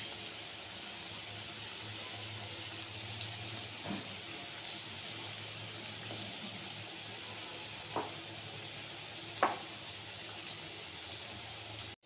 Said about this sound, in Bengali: এরকম আস্তে গ্যাসে পকোড়াগুলোকে আমি ভাজবো